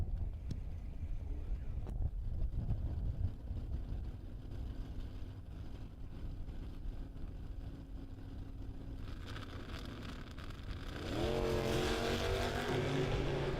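A 1978 Camaro and a Super B race car launching down a drag strip, a distant engine roar with wind noise that rises to a louder, climbing howl toward the end.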